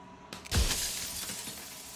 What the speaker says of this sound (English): And then another crack forms, and another, turning the mirror into jagged shards of broken glass.